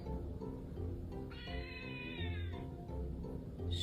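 A cat meows once, a drawn-out, wavering cry of about a second that stands out clearly, with low room noise around it and no talk.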